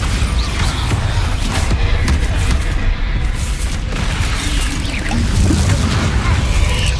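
Bombarda explosion spell cast in Hogwarts Legacy, a loud, dense roar of blasts and rumbling debris that fills the whole stretch without a break.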